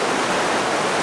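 Steady broadband rush of river water flowing through a narrow sandstone canyon at midday, continuous and fairly loud with no breaks or voices.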